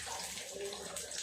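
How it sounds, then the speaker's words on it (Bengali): Dried red chillies and whole cumin hit hot oil, a brief, quiet, steady hiss of sizzling like running water. "তেল গরম হয়ে গেছে, দিয়ে দেবো শুকনো লঙ্কা, গোটা জিরে"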